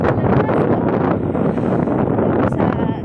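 Strong wind blowing outdoors outside a supermarket, roaring steadily and buffeting the microphone with loud low rumble throughout, with no clear speech over it.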